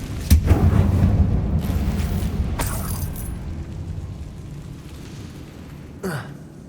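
A Confringo blasting spell explodes in Hogwarts Legacy: a sharp crack sets off a heavy boom that rumbles and fades over several seconds, followed by another short, punchy burst near the end.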